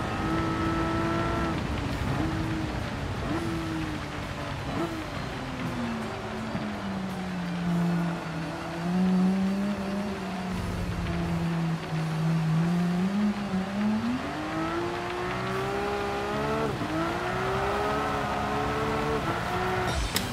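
Engine of a car drifting in Gran Turismo 7 drones continuously, its pitch sweeping down and back up as revs rise and fall through the slide, with a steady wash of tire noise underneath and no talk.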